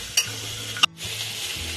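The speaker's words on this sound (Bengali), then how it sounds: "একসঙ্গে একটু ভাজা ভাজা করে নেব।" Green chillies, garlic and minced ginger frying together in a pan for chicken stew: a steady sizzle broken by two quick metallic clinks of a spoon and a brief drop in sound.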